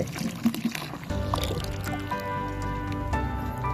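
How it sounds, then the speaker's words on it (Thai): EM microbial starter liquid is poured into a bucket of fermenting insect-repellent brew, giving close, wet splashing and dripping that settles into a steady pouring stream with a low background hum. "สุดท้ายก็ใส่หัวเชื้อจุลินทรีย์นะครับ EM ลงไปนะครับ ใส่ไปเลย"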